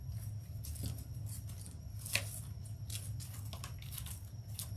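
Evergreen branches are cut apart for a Christmas wreath, with faint snips and rustling of needles over a steady low background hum, a single sharper snip standing out in the middle.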